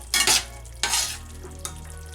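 Meat for chili con carne cooking in a pot, two loud scraping stirs and a lighter knock over a low background hum, close by with a faint sizzle.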